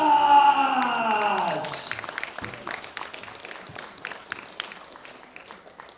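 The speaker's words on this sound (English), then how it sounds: "give me a big round of applause for Edidijus Valkykas." An audience at a world bench press championship applauds a sub-junior gold medalist and world record holder from Lithuania, scattered claps rising as an announcer's voice fades, then continuing sparsely and moderately near.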